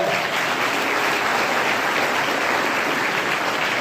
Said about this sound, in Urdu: زوردار تالیاں یہاں پر.